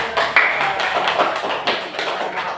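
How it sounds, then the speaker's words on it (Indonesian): A classroom group claps together, a dense burst of applause that holds steady for a couple of seconds without pause. "Bagus, tepuk tangan."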